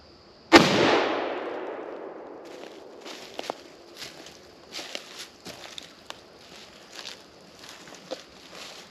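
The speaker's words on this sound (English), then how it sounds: "The target waving was just a muzzle blast" A single loud rifle shot fired at an 8¾-inch live oak tree outdoors, a sharp nearby blast with a long decaying echo, followed by scattered faint rustles and footstep-like knocks.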